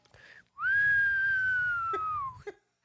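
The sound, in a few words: human imitating a whistle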